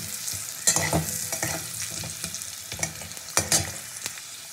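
Thin potato slices sizzle and crackle as they fry in oil for a fish curry, with a steady hiss broken by louder bursts and occasional scraping stirs of a spatula, no voices.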